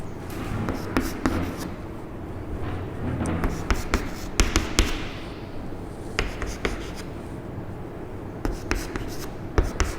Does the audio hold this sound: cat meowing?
no